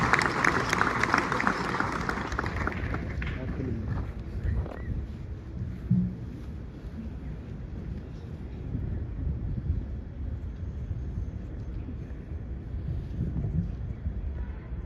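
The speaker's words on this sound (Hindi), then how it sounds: "रुकनी नहीं चाहिए जोर तालियां" A crowd at a school HIV/AIDS awareness event applauds loudly for an arriving maths teacher, dense clapping strongest at first, then thinning into a softer, wind-buffeted wash of scattered claps.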